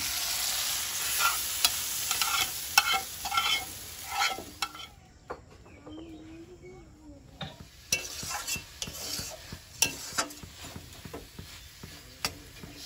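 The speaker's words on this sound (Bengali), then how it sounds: "এবার চিংড়ি মাছটা শাকের মধ্যে দিয়ে দেবো" Red amaranth greens with shrimp frying in a pan, the sizzle steady while a utensil stirs and scrapes in repeated clacks, pausing briefly midway before resuming.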